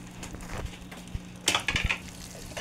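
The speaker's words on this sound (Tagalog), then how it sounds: "Tutunawin natin ang ating mantikilya dyan." Butter melting in a pan for Bikol Express, a soft sizzle with scattered clinks and scrapes of a utensil against the pan, a louder cluster of scraping and sizzle partway through.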